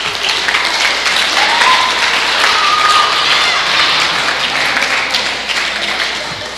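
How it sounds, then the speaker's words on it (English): Sustained audience applause fills a school science fair gathering, a dense steady wash of clapping from a crowd of students and parents that holds loud and even before tapering slightly at the end. "so please give yourself a round of applause."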